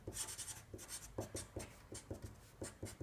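Pen or chalk writing out math by hand, soft rhythmic scratching strokes in short groups, faint and close with brief gaps.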